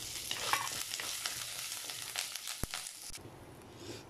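Ginger, garlic, curry leaves and tamarind sautéing in a pan with dried red chillies, giving a soft, continuous sizzle with scraping stirs and one sharp clink partway through, fairly quiet and without voices.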